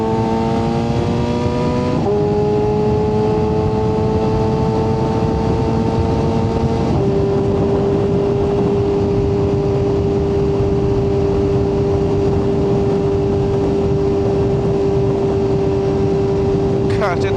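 A BMW S1000RR motorcycle pulling onto an on-ramp, engine droning loud and steady as it climbs through gears with clear pitch drops at each shift, heavy wind rush throughout.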